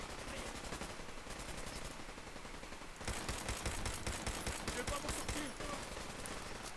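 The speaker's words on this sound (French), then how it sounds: "je vais prendre le pistolet tout pourri. Le pistolet en bois." Rapid gunfire from a wooden pistol in Fallout 4, dense repeated shots layered over game sound effects, growing louder and busier partway through.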